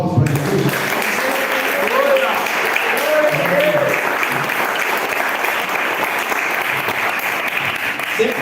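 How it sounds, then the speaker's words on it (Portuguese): Congregation clapping in a church service, loud sustained applause from many people with voices and cheering mixed into the crowd sound throughout. "Dá uma salva de palmas para Jesus."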